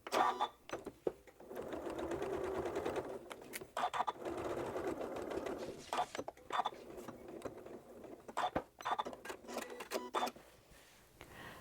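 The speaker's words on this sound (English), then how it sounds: "I've stitched my top and batting down to the backing with my 1/4 inch seam" Sewing machine fitted with a walking foot stitching a quarter-inch seam through a quilt top, batting and backing for a placemat, running in steady bursts broken by short pauses and clicks, close and moderately loud.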